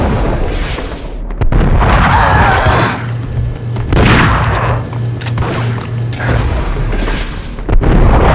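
Bomb explosions in a video game boom loudly and heavily, with dense rumbling blasts rolling one after another almost without pause.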